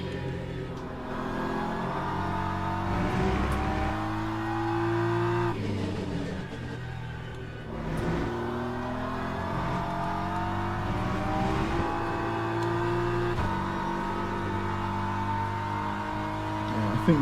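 Ferrari hypercar engine in the Le Mans Ultimate racing game, loud revving with rising gear-change sweeps and a pass-by surge, close and sustained, with occasional talk underneath.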